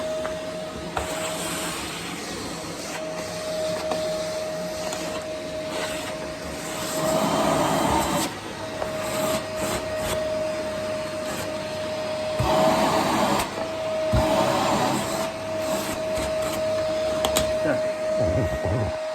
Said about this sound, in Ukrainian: пилососом взяв і все, всю пиль посмоктав